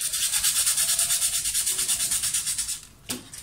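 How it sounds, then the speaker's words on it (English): Sandpaper rubbed diagonally across a styrofoam wing for a small rubber-band-powered model plane, a rapid rhythmic scratching of even strokes close by, ending with a brief knock. "I'm going to be using my sandpaper to kind of sand the wing in this kind of a diagonal way."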